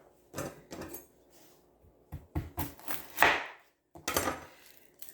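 Knife chopping green onion stalks on a cutting board while making a chicken noodle vegetable stew, a few loose irregular bursts of chops, close and moderately loud, with pauses in between.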